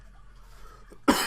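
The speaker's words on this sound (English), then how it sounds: "Now the cough is almost gone." A single sharp, loud cough bursts out at the end, close to the microphone, after a second of quiet room tone.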